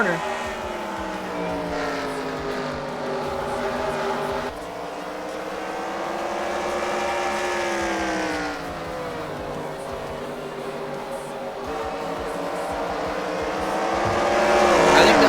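Sim racing cars in an online racing league game, engines droning and shifting pitch steadily as they accelerate through corners, loud and continuous with a commentator talking over them.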